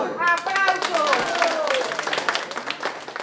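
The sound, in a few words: applause from elderly people at a nursing home exercise session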